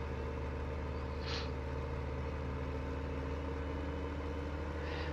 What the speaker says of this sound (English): I'm glad I got this tractor, not a little one